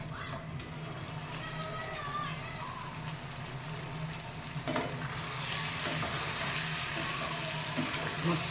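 Thandi chicken frying in a covered pan over medium heat, a steady sizzle running throughout with faint stirring clinks and a talking voice over it.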